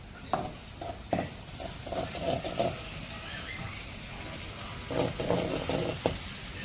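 Chili powder fries and is stirred in a pan for a quick chutney, with soft sizzling and several scraping strokes of the spoon coming in short bursts, close and fairly quiet.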